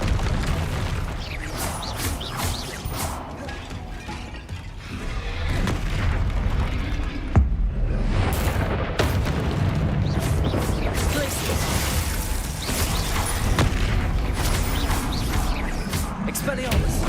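Spell-casting in Hogwarts Legacy: dense, continuous magical bursts and booming impacts with busy game effects throughout, loud and layered with no clear pauses.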